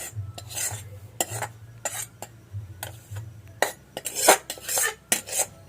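Fried shrimp and onion are tipped into an eggplant mash with spoon scrapes and clinks against a metal pot or bowl, a series of sharp, close scraping strokes with short pauses between them.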